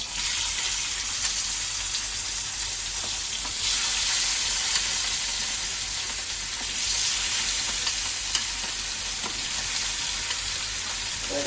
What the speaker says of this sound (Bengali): তো মাছ তেলটা গরম হয়ে গেছে, তো আমি মাছটা দিয়ে দিচ্ছি এর মধ্যে।